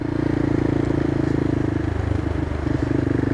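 A CCM Flat Tracker motorcycle riding and shifting up through its gearbox, a close, steady engine drone with a throbbing low rumble and a slight dip partway through.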